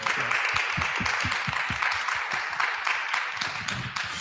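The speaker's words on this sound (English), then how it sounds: "Let's give them a round of applause" An audience applauds with a dense, steady wash of clapping that holds at an even level from start to finish.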